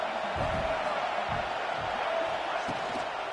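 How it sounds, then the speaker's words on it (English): A football stadium crowd at an Arkansas versus LSU game roars steadily as the home team lines up for second down, a dense, loud wall of cheering with no pauses. "this crowd is turning it up a notch"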